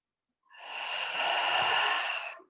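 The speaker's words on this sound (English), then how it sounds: "And again, breathing in through the nose." A single deep inhale through the nose, close and steady, rising smoothly for about two seconds before cutting off, alone in silence.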